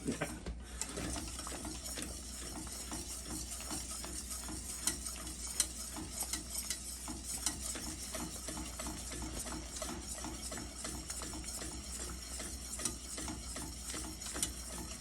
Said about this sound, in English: make sure you're whisking the heck out of this. Keep this stirred constantly.